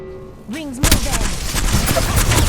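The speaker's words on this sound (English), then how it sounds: "I'm getting shot at" Gunfire in a competitive shooter video game, a burst of shots starting about a second in and continuing in dense, loud cracks, with a brief whooshing effect just before.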